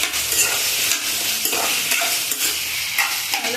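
Potato pieces sizzle steadily in a hot pan, close and continuous, with intermittent stirring scrapes of a spoon and no voices.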